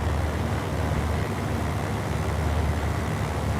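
Britten-Norman Trislander piston engine number 2 spinning up in Microsoft Flight Simulator, a steady loud broadband engine roar with low throbbing rumble, continuous throughout and no talking.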